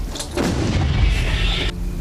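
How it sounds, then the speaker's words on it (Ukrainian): An American M777 howitzer fires a single loud, close shot near Kurakhove, with a sharp blast followed by a rolling boom that rumbles and fades. "Постріл!"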